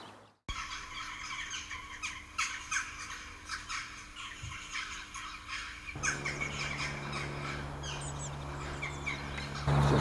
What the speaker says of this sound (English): It's a blue tit.